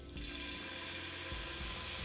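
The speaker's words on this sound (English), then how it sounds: "We're gonna add just a splash of red wine to deglaze the pan" Red wine splashed into a hot pan of cooked onions to deglaze it, a short steady liquid pour and sizzle running close and fairly quiet for about two seconds, with no voices.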